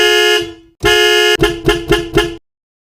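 A Chevrolet car anti-theft alarm blares loud and close: two long sustained tones, then four short rapid beeps in even rhythm before it cuts to silence.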